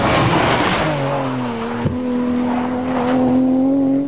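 A Nissan Skyline GT-R engine revs hard under acceleration during a road test, its pitch sweeping up through gear changes in a loud, continuous drone with a brief dip as it shifts.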